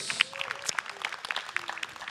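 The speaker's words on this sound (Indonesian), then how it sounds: "tepuk tangan dong untuk GJLS." A studio audience at a stand-up comedy roast show claps in a thin, scattered patter of individual hand claps, fairly quiet and uneven, with a few sharper claps standing out.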